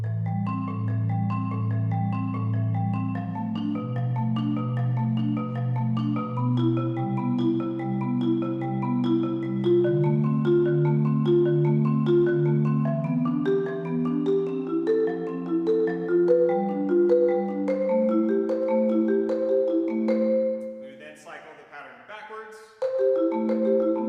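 Pitched percussion plays the 'broccoli' lateral stroke exercise at a percussion recital: a continuous, ringing stream of overlapping notes moving through shifting rhythmic patterns for about twenty seconds, then a brief softer noisy patch and a final return of tones.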